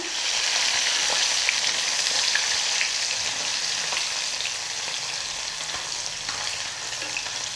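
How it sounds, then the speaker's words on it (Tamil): Anchovies fry in a pan with a dense, continuous sizzle and crackle, close and steady with faint stirring ticks, no voices. "நெத்திலி மீன் வேகிறதுக்கு ரொம்ப டைம் எடுத்துக்காது சீக்கிரமாக வெந்துடும்"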